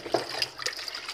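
Peanuts being washed in stored water for making uji, a brief close swish and slosh of liquid with small drips and splashes.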